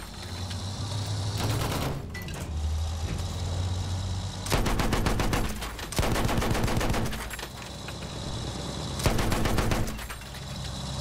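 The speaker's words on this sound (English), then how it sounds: "I'm in some, like, machine gun fire." Machine gun fire in the Battlefield 1 beta: loud bursts of rapid automatic shots, with longer volleys near 2, 5, 6 and 9 seconds, over constant battle rumble and vehicle drone. No talking.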